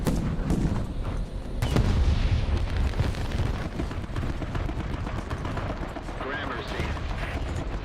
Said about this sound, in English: The enemy is preparing for artillery barrage.